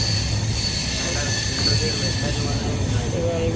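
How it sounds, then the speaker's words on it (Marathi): A passenger train runs on its rails between Ratnagiri and Mumbai, a loud, continuous rumble from inside the carriage with rhythmic wheel clatter and a high metallic squeal layered on top. "सो काय आता मी ट्रेनमध्ये आलेलो आहे."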